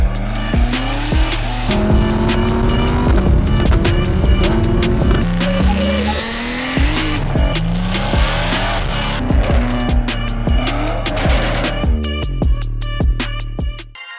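An Audi RS3 8P's five-cylinder engine revs hard and loud, pitch rising and falling through repeated gear changes with tire squeal, running continuously for about fourteen seconds before cutting off abruptly at the end.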